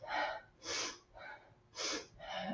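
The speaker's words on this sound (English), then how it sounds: "Inhale, sniff and twist." Sharp sniffing inhales during a Pilates twist on a mat, about five quick nasal breaths in a steady rhythm, close to the microphone and fairly soft.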